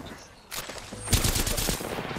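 Gunfire in the game Apex Legends: a short burst of shots begins partway in, then a denser, louder volley of rapid close shots follows and continues, with speech faintly present.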